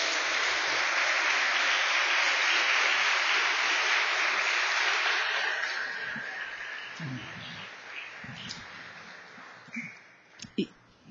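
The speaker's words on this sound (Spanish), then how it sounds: "denle un gran aplauso al Señor" Congregation at a Spanish-language church service applauding, a loud wash of clapping that fades out after about six seconds, leaving scattered faint knocks and murmurs.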